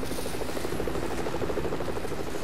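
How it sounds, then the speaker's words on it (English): A steady, dense rotor throb of a helicopter in the video game Lego Marvel Super Heroes, loud and continuous with no voices. "oh my, he's got a helicopter."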